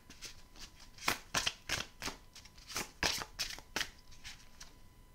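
Belline oracle cards are shuffled by hand in a quiet room: a run of crisp, rapid riffles and soft slaps arriving in uneven bursts, close and fairly faint.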